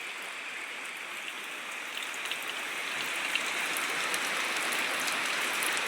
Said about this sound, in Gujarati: સવાર કરતા પણ અત્યારે નક વરસાદ ચાલુ થઈ ગયો છે